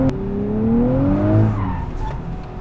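A 2023 Nissan Z drifting, its tires squealing and skidding loudly and close up over the strained engine drone, with the pitch sliding upward as it slides through the corner.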